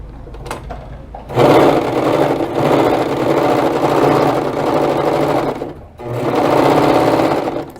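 An overlock serger runs close by, its rapid mechanical stitching and fabric cutting coming in two long, loud runs separated by a brief pause.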